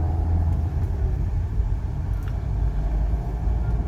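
A car pulls away from a stop on a driving test course, its engine giving a steady low rumble up close, with no talk over it.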